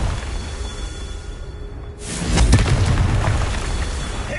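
A Confringo spell explodes in the Hogwarts Legacy video game: after a quiet stretch, a sudden loud booming blast erupts and rumbles on for a couple of seconds.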